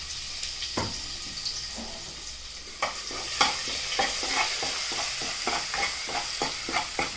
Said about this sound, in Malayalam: ഇത് ആദ്യം എണ്ണയിലോട്ട് ഇടാം. ഇതൊന്ന് മൂപ്പിച്ചെടുക്കണം